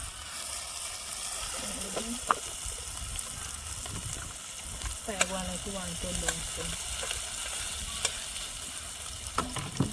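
Jamaican chocolate tea simmering in a pot, a soft continuous bubbling sizzle with occasional spoon clinks and stirring scrapes, fairly quiet and close.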